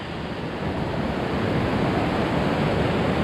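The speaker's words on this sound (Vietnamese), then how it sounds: "Ở đây là họ gọi là suối đá nha các bạn ơi, suối đá ở thị trấn Ngọc Hồi" A rocky stream at Ngọc Hồi rushes steadily, producing a dense, broadband wash of flowing water, loud and close, with no voices over it.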